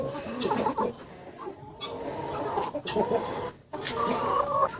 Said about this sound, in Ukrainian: Півник ніяк не може заспокоїтися. Не сподобалося йому, що його кільцували.